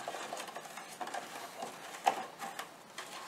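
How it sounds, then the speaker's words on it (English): A hand stirring salt water in a container for electrolysis, giving soft sloshing and swishing splashes with small irregular clinks, faint and close, no talking. "give it a little stir."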